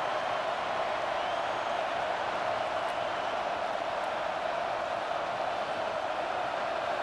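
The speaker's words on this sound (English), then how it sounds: "It's early, but this crowd is fired up. Listen to this noise here." Steady stadium crowd roar from the College Football 25 video game during an Auburn versus Alabama matchup, a dense unbroken wash of noise at moderate level with no distinct cheers standing out.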